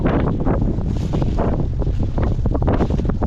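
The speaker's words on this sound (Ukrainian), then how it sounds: "Дуже вітер великий сьогодні" Strong gusty wind buffets the microphone continuously outdoors at a village house plot, a loud low rumble with rapid fluttering bursts and no voices.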